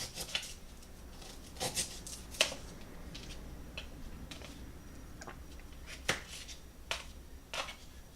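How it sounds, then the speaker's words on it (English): A knife cuts ginger into small pieces, producing sparse, sharp taps and clicks at irregular intervals against a quiet background. "I'm going to take the ginger, a little bit more piece of it, and then just cut it up"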